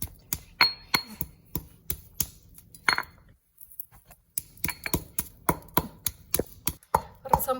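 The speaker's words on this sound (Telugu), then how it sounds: "దీన్ని ఇప్పుడు ఇట్లా దంచి పొడి చేసుకుందాం." Black pepper and rasam spices pounded in a stone mortar: a rapid, steady series of sharp, close thuds with a brief pause midway before the rhythmic pounding resumes, no speech.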